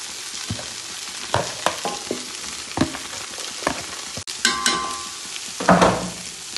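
Chopped ginger frying in a pan while being stirred, giving a steady soft sizzle broken by repeated scraping strokes of a spoon, with a few louder clatters near the end; no one speaks.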